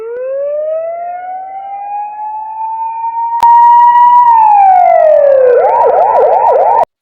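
A loud, close police car siren sweeps in a long rising wail, holds, then drops into a rapid repeating yelp, with no talk over it.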